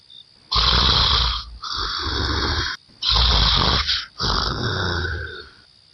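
A sleeping mother-in-law snoring loudly nearby, four long rasping snores with brief quiet gaps between, close and harsh.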